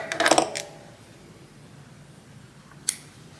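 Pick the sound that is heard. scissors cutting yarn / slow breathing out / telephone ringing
scissors cutting yarn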